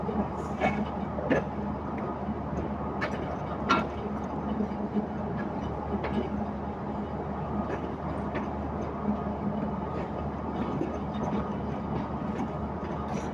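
A passenger train running between Kot Addu and Multan Cantt gives a steady, continuous rumble from inside, with occasional knocks and clanks.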